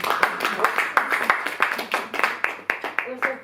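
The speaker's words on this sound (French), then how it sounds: "on applaudit Colline" An audience claps for filmmaker Coline Serreau at a Paris cinema event. Rhythmic clapping from a small crowd is heard close by, with uneven bursts and a few voices mixed in.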